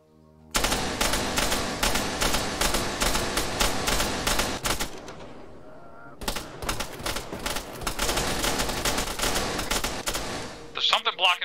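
Rapid automatic gunfire in The Facility: New Horizons, dense bursts of loud shots filling most of the stretch with a brief pause midway, plus faint speech underneath.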